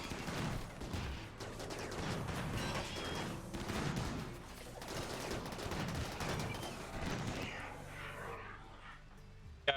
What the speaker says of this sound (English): Let's have you guys shoot that.